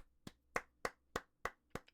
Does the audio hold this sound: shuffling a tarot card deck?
no